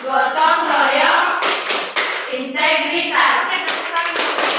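Group of schoolchildren doing the tepuk PPK rhythmic hand-clap in a classroom, with bursts of fairly loud clapping mixed with children chanting together.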